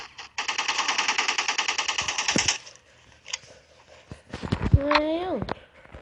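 Rapid automatic gunfire in the mobile shooter game Respawnables, a loud steady burst of shots lasting about two seconds, followed by scattered game effects while someone talks.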